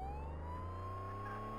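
A police car siren in the Flashing Lights video game wails steadily over a low engine drone during a code 3 run, loud and continuous for the whole moment with no talking.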